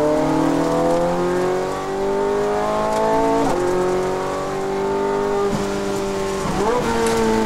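A Ferrari 430 Scuderia engine pulls hard on a race track at Las Vegas Motor Speedway, loud and close with steady rising harmonics, two brief dips as gears shift, then climbing again with a faint tire squeal.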